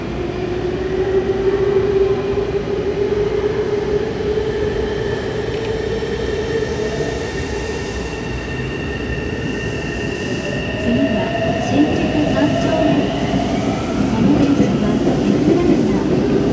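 A Tokyo Metro 7000 series subway train on the F Liner express rumbles steadily along the rails, with a rising motor whine and faint wheel squeal throughout, loud and close.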